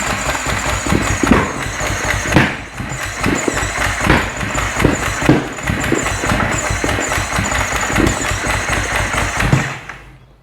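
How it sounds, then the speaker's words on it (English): A freshly rebuilt Husqvarna FC450 motorcycle with a flashed ECU and a nearly dead battery is cranked but won't start, popping and backfiring. Loud, close, irregular bursts run continuously for about ten seconds, then fade at the end. "it's popping and backfiring"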